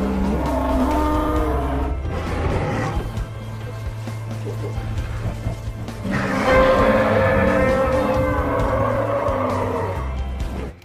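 A Jurassic World Dominion Parasaurolophus toy plays electronic dinosaur sound effects: loud screeching, roaring calls in two bursts separated by a brief lull, filling the whole stretch.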